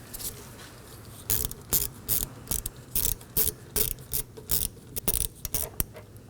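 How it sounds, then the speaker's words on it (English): Ratchet and socket breaking loose a 12mm bolt on the rear brake caliper of a 2015-2023 Nissan Maxima, a close series of short ratcheting clicks coming in quick bursts, with no talking. "This is a 12mm. So use a ratchet and socket. Break it loose."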